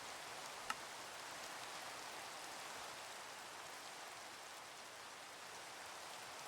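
Steady rain sound effect hissing evenly throughout a tabletop Dungeons & Dragons game session, a broad constant wash at moderate level with one tiny tick near the start.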